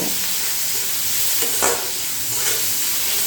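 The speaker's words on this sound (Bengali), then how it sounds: "এবার এই পেঁয়াজগুলো ফোড়নের সঙ্গে একটু ভালো করে ভেজে নেব" Chopped onions and green chilies frying in tempering oil in a pan give a steady, close sizzle, with a couple of brief stirring scrapes along the way.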